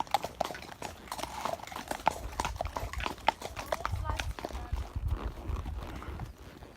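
Horse hooves clip-clop steadily along a trail near a volcano, close and rhythmic, while people talk over the riding.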